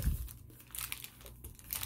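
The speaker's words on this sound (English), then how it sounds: "Use my scissors." Scissors cut paper for a junk journal, giving a few soft, crisp snips and crinkles close by, quiet and irregular, with no talk.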